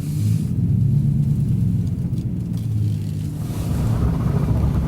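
A heavy haul truck, driving empty but mud-caked in Canadian winter, gives a steady low engine rumble from inside the cab, loud and constant with no talk.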